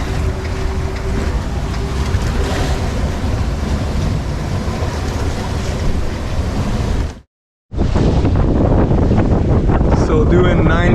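Steady roaring wind and rushing water surround a sailboat under full main and reefed genoa at speed, loud and constant, with a short dropout near the end.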